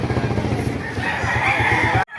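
A rooster crows at a pet market in Baliwag, Philippines, a single loud, close call lasting about two seconds that cuts off abruptly.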